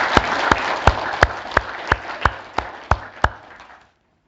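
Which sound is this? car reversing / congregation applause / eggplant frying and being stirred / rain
congregation applause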